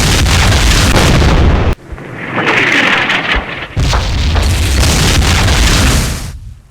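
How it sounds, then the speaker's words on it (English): Artillery barrage in the Vietnam wargame Campaign Series Vietnam, loud booming explosions that roll and rumble, with a brief lull in the middle before heavy blasts resume and then fade out. "I think most of our guys are safe from that artillery fire."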